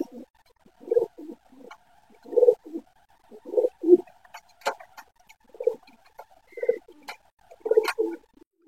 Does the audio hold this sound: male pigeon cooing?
yes